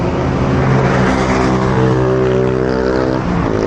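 Dense Manila road traffic heard from a motorcycle, a continuous loud engine drone with rising and falling tones of many vehicles close by, steady throughout with no voices.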